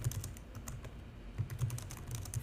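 Rapid, steady keystrokes clatter on a computer keyboard, close and fairly quiet, with no talking.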